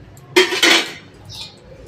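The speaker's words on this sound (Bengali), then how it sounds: "এবারে এই যে 3 পিস মাছ আর বড়িগুলো দিয়ে দিলাম এর মধ্যে" Pieces of fish and lentil dumplings dropped into a metal cooking pot, a short close clatter of two quick clanks against the pot, then quiet.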